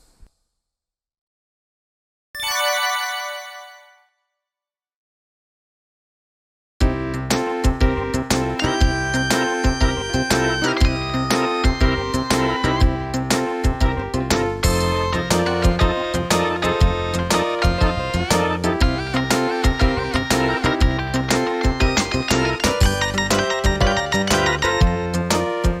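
Ringtones from a Samsung SPH-A920 phone: a brief lone tone burst, a pause of silence, then a loud, busy polyphonic melody that plays on steadily with tight, rapid notes.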